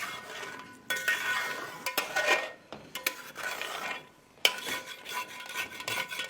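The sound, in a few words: stirring chicken with cream and kasuri methi in pan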